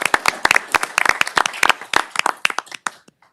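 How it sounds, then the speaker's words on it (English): Scattered applause at a city council meeting: a small group clapping in uneven, sharp bursts for about three seconds, thinning out and stopping abruptly near the end. "And I also think he deserves a round of applause"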